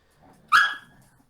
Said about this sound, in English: my dogs are fighting right now